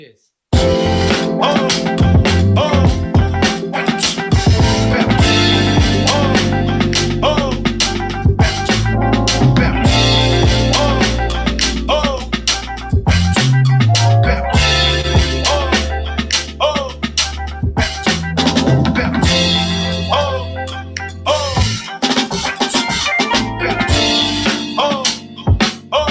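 A drum break sample looped into a hip-hop beat, loud and full, with punchy kicks and snares driving a steady rhythm over layered melodic music for most of the stretch before dropping out near the end.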